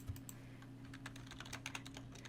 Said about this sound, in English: Typing it in on my thing right now.